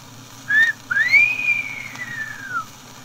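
A person whistles a short rising note, then a long sliding tune that arcs up and slowly falls, clear and fairly close over a quiet background, as a staged cue in a comic retelling of Bizet's Carmen.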